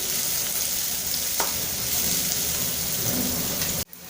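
Finely chopped garlic fries in hot oil in a pan, giving a loud, even crackling sizzle that fills the whole span before cutting off sharply near the end.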